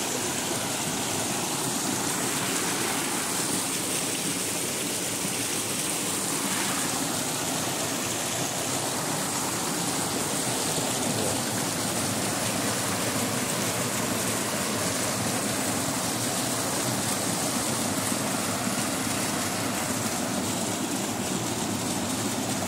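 Steady broadband rush of water pouring over the spillway of the full Poço Grande reservoir dam in Penaforte, northeastern Brazil, after intense rains, constant and unbroken throughout with no voices.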